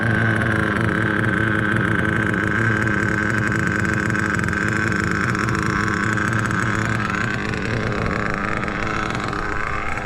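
An HPI RS4 RC car with an 18 engine and an upgraded diff runs on 30% Bones Brew fuel. Its small engine gives a continuous, loud, buzzing whine that stays fairly steady for ten seconds, close by and without voices.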